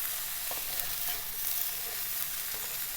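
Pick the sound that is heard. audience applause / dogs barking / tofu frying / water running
tofu frying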